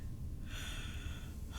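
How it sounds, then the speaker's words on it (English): A single breathy yawn rises and lingers for about a second against a quiet room background, with no speech. "I'm yawning up a storm"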